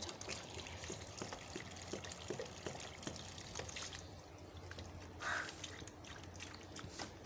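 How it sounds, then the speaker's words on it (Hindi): Plants being watered at home, with a steady trickle and splash of water running throughout at moderate loudness, no talk. "तो ये पौधों को पानी देते हैं जी।"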